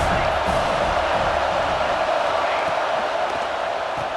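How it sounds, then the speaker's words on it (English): Stadium crowd roaring during a football video game, EA Sports College Football 26, at Neyland Stadium: a steady, loud wash of cheering and noise throughout, with no clear breaks. "This crowd trying to make life miserable for this offense."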